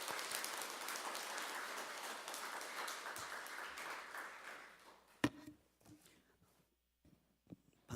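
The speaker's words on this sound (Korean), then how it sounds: "우리 목사님 나오실 때 우리 박수로 한번 환영하고 모시겠습니다" A church congregation applauds to welcome the pastor as he comes forward, dense steady clapping that fills the room before fading out, leaving a few scattered claps and quiet shuffling.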